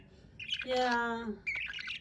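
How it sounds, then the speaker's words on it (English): Small, fast chirps and squawks from a pet budgie, two short bursts close to the microphone, with a person talking softly over the bird. "Oh, cute baby bird."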